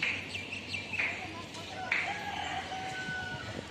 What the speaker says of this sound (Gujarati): જો કુકડા છે